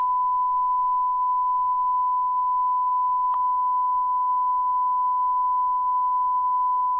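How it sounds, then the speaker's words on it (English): A long, steady censor beep, a pure tone held unbroken for about seven seconds at constant loudness, with a brief click partway through. "Golly, this beep is long"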